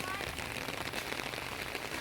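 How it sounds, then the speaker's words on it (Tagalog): Steady rain falling and pattering on a surface, a dense continuous hiss close by, with faint voices in the background. "Buti ulan, oh."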